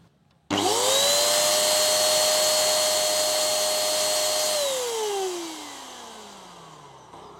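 A Mollar MLR-ESG450 electric paint spray gun motor starts abruptly and runs at a steady high whine, then winds down with a falling pitch as it switches off.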